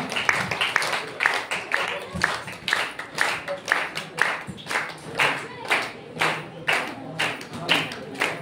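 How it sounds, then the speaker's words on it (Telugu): At a church's third anniversary worship service, the audience claps together in a steady rhythmic beat, loud and close, with a voice talking over the opening moments before the unison clapping settles into an even pulse. "అంత చప్పట్లు కొడదామా, గట్టి చప్పట్లు కొడదామా."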